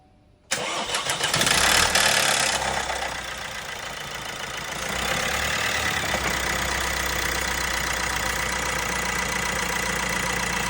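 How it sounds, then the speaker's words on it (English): A Vauxhall 1.6 diesel car engine cranks briefly and fires up with a loud roar after a timing chain replacement, then settles into a steady, rattly idle close by. "It's now time to start it up."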